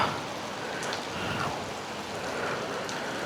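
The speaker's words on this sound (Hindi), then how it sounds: "बारिश है कि थमने का नाम नहीं लेती" Heavy rain pours steadily during a rainy ride in Northeast India, a dense continuous hiss close around with no voices.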